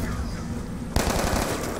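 Gunfire in Call of Duty Black Ops II: a steady wash of noise breaks into a sudden, loud burst of rapid automatic shots that continues to the end.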